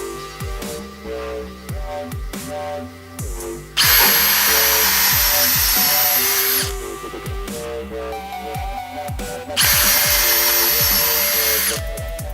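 Power drill pre-drilling holes into wood for a clamp rack, running in two long, loud sustained whines between quieter bursts of knocking and handling; no talk.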